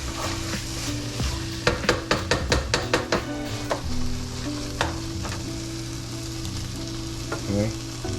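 Shredded chicken and a toasting bun frying in a pan while being stirred, a steady sizzle with a run of rhythmic scraping and clacking strokes, then quieter frying alone.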